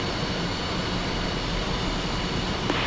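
An F-5E jet engine in the DCS flight simulator runs steadily after start-up, a dense, continuous roar and hiss that stays loud and even throughout.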